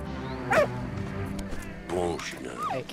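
A dog in the video game Valiant Hearts: The Great War whimpers and gives short yips and barks in a few separate bursts, close and clear over a low ambient game backdrop.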